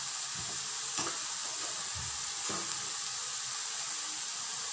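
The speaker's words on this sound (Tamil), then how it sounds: "நல்லா ஃப்ரை ஆயிடுச்சு நூடுல்ஸு." Noodles stir-fry in red chilli sauce and Kissan sauce, a steady, loud sizzle filling the whole clip, with a few dull thumps and scrapes as the noodles are tossed in the pan.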